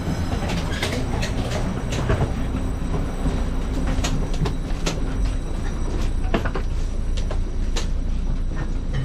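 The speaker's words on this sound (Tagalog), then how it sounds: "Sakay na kami sa kuway-kuway na train." Steady rumble from inside a moving train, with rolling wheel noise, rattling carriage and occasional sharp clicks and squeals running continuously with no talk.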